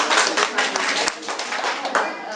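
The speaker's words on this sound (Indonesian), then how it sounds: "Tepuk tangan buat Bapak." An audience claps for a man during a product presentation about a health coffee, a brief burst of fairly close clapping with some voices mixed in.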